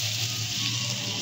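Kashmiri red chili powder sizzling in melted butter in a pan, a close, even hiss with a faint low hum underneath, short and without talk.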